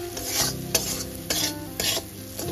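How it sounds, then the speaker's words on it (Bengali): A spoon stirs a paste of turmeric, salt and chili powder in a hot pan, with a steady sizzle and several scraping strokes against the metal, close and moderately loud. "হলুদ লবণ এবং লঙ্কার গুঁড়ো দিয়ে এখানে 3 মিনিট খুব ভালো করে কষে নেব।"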